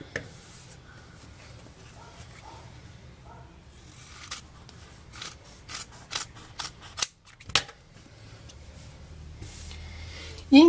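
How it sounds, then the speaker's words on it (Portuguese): Fabric is cut with scissors along a drawn line for a zipper seam, giving a run of crisp, close snips and blade clicks spaced irregularly over the span, with brief quiet gaps and some faint background talk. "E aí, a gente pode cortar bem em cima do risco."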